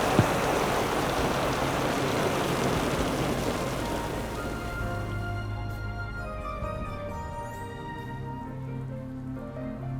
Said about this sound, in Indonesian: Tengah malam hujan-hujanan.